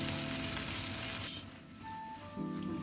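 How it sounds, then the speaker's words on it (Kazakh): Diced pumpkin fries in a pan, giving a steady close sizzle. A lid or utensil briefly changes the tone midway, and the frying continues on its own with no voices. "Асқабағымыз жақсылап қуырылып жатыр."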